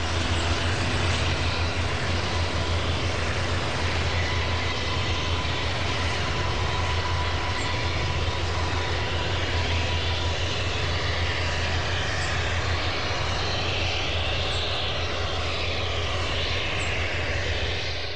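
A modern helicopter taxis with a loud, steady engine roar and a low, constant hum underneath, sustained and unbroken throughout with no voices.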